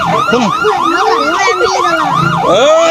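Loud, overlapping ambulance sirens wail up and down continuously, several tones rising and falling together close by.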